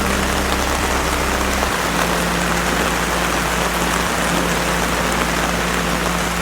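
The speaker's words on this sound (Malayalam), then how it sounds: "ഇന്നിവിടെ നല്ല മഴ കേട്ടോ," Heavy rain pours down in a dense, unbroken hiss of drops striking surfaces, steady and loud throughout with no talking.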